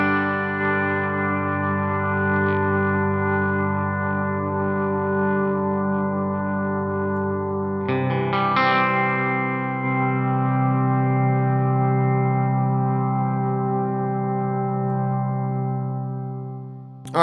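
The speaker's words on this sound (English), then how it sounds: "let's check out the hold function for the Hall." Electric guitar chord played through the hall reverb of a NUX Atlantic delay and reverb pedal with hold engaged, sustaining an endless wash; a second chord layers in midway and the loud, steady drone continues with no fade.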